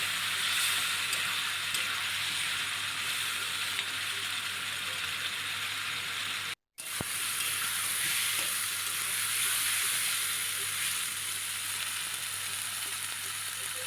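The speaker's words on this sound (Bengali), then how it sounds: "মশলা কষাতে কষাতে আমার আলুগুলোও সেদ্ধ হয়ে যাবে" Potatoes and soybean chunks cooking in masala in a pan give a continuous close, loud sizzle with rattling stirring scrapes, broken by one brief cut of silence midway.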